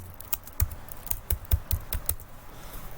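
Fingers typing on a computer keyboard while entering data into a point-of-sale program, about a dozen crisp, close key clicks in an uneven rhythm, clear and fairly quiet with no talk.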